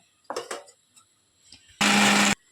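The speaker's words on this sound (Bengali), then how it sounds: "চলো এবার মিক্সিতে আমি মশলাটা করে নিই।" A kitchen mixer grinder blends a spice paste with cashew nuts, giving one loud, steady whirring burst of about half a second after a few soft handling knocks.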